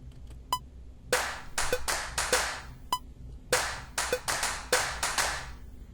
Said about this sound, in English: I've got this clap number 1 is just layered over the snare for some body. Clap number 2 is doing like a little offbeat